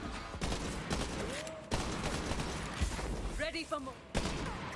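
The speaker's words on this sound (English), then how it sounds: "I think this is a burst fire gun" Burst-fire gun shooting in Borderlands 3, short clustered shots repeating at intervals over a busy game soundscape, with a voice speaking briefly in between.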